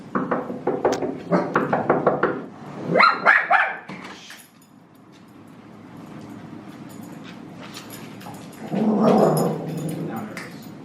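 A dog barks repeatedly at a house door in rapid loud bursts, then whimpers and yips, followed by a quieter stretch and a final flurry of barking close to the microphone.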